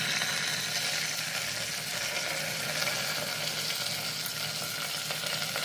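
Chopped mixed vegetables and curry leaves fry in oil with chana dal, a dense, continuous sizzle that stays loud and even throughout, close by with no talk.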